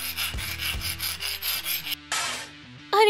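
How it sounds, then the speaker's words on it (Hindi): A saw rasps back and forth through metal bars in a steady rhythm of repeated strokes, loud and close, with sustained tonal background sound and a shift in texture near the end. "अरे नहीं, मेरी आरी,"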